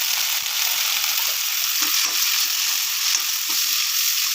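Onions, tomato and ginger paste fry in a pan with a dense, steady sizzle, close and even throughout, with faint soft stirring taps underneath.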